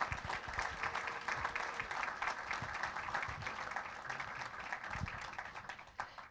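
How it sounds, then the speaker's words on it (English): Faint, distant round of applause from an audience at a school district board meeting honoring a school police officer, a steady wash of many hands clapping throughout. "feel free to give him a round of applause"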